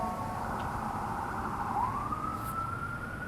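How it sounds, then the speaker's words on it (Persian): An emergency vehicle siren on a street in the United States wails steadily in the distance, its pitch dipping and then sweeping back up over a constant hum of traffic. "صدای آمبولانس و آتش نشانی پلیس همیشه همه جای امریکا هست"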